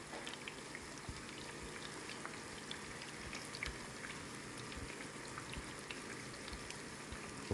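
Eggs frying in a pan for a Jamaican breakfast egg sandwich, a steady dense crackle and hiss with scattered pops, constant and close throughout with no talking.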